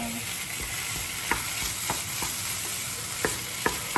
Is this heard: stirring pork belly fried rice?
yes